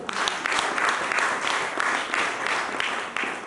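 A church congregation applauding during a sermon, a dense, sustained wash of many hands clapping at close range, with no voices standing out.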